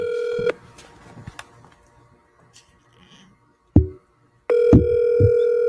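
Touch-tone telephone keypad dialing a number, several distinct DTMF beeps spaced irregularly, the last tone held longer, with quiet room noise in between and no talk.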